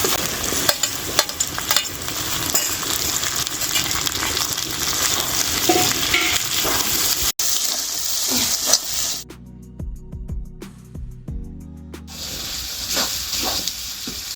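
Chopped tomato fries with ginger, garlic and onion for a Bengali mutton curry, a loud close sizzle with scraping stirs that briefly drops to near quiet before the hiss resumes.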